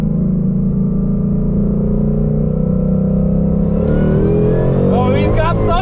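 A 2018 or 2019 GTO roars in a drag race, a loud, dense engine drone that climbs in pitch as it accelerates, with rising whines toward the end and voices talking over it.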